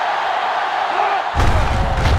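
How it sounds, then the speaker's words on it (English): Stadium crowd in the NCAA Football 07 video game on PS2, a broad, loud roar that swells sharply about halfway through as the noise is turned up. "It's arguably the loudest crowd in the nation, and they are turning it up a notch."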